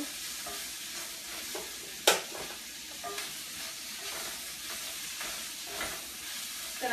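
Swiss chard leaves sauté with garlic in hot oil, making a steady broad sizzle with occasional stirring scrapes and one sharp clack of a utensil against the pan, close and without voices.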